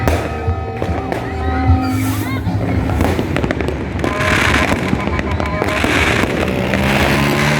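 New Year fireworks and firecrackers burst all over Angeles at midnight, a dense, continuous crackle of pops and booms near and far, with voices mixed in.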